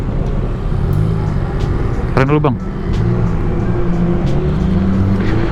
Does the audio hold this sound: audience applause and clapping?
no